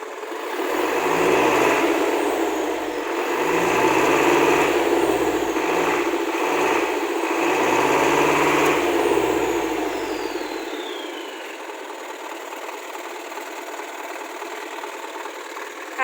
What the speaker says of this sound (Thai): เสียงเครื่องยนต์ค่ะ ตัวนี้ไม่มีท่อพักมานะคะ เสียงอาจจะดูแบบ แสบหูนิดนึงค่ะ